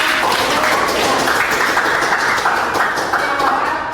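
A group of people claps together in a meeting or classroom, steady continuous applause at moderate volume, dense and even throughout without speech on top.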